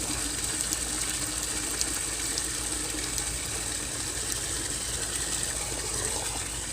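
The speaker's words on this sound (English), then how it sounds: "Fill this bucket up." Water pours steadily into a bucket for a chicken waterer, making a constant close rushing splash with faint clicks and no talking.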